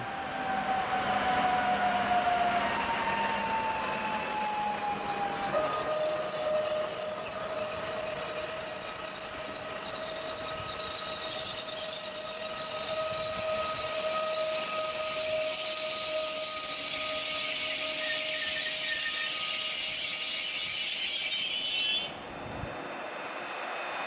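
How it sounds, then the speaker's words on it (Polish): An SKM Warszawa S9 train pulls into Warszawa Młynów station, a long rising electric whine with a high hiss and sliding tones, steady and moderately loud before cutting off near the end. "Teraz wjedzie pociąg linii S9 SKM Warszawa do stacji Radzymin."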